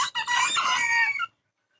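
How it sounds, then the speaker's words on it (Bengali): A single loud, close chicken call, a drawn-out squawking cluck about a second long, followed by silence. "ওই যে ওখান থেকে উঠছে মুরগিগুলো দেখা যাচ্ছে।"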